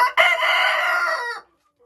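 A crested Dominant hen from a Czech line gives one loud, close, drawn-out call lasting just over a second, clear against an otherwise silent backdrop.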